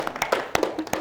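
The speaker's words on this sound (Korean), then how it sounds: "자, 박수." Brief scattered clapping from a few people on a talk show, a handful of sharp, close claps in an irregular rhythm lasting about a second.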